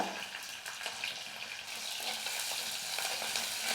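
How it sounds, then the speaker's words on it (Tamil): Garlic and chopped green chillies fry in oil with mustard seeds for a South Indian greens kootu, giving a close, steady sizzle and crackle with faint stirring scrapes throughout. "இப்போ பூண்டு பச்சை மிளகா எல்லாமே வந்து நல்லா வதங்கிடுச்சு"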